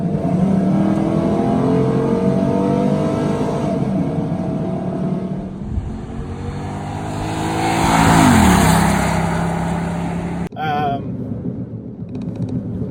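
A 2011 Chevy Caprice PPV police car accelerates hard, its engine note rising and swelling loud and close, then easing off with a sudden drop near the end; wind noise mixes in throughout.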